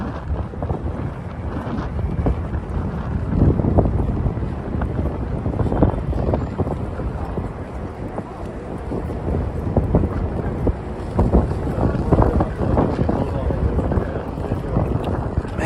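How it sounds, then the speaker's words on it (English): Strong gusty wind buffets the microphone on a Manhattan street near Washington Square Park, a continuous loud roaring rush that swells and eases throughout. "Man, the wind is absolutely brutal today."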